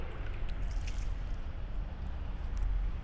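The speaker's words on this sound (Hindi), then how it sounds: "तो मुकम्मल चेहरा धो लेंगे हम।" Water splashing and dripping steadily as a face is washed during wudu ablution, a continuous close wet patter with small drips, no voices.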